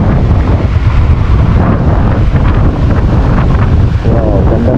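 Strong seaside wind roars steadily into the microphone as a loud, continuous rumbling buffet, with a hint of surf and water underneath and no voices.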